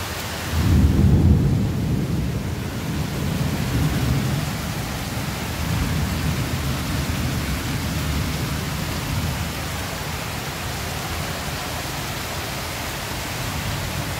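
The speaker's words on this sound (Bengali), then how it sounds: "হয়তো বৃষ্টি শব্দ পাচ্ছেন অনেকে।" Heavy rain pours steadily during a hailstorm with lightning, a dense, loud roar throughout, with a deep rumble of thunder swelling near the start before settling into the continuous downpour.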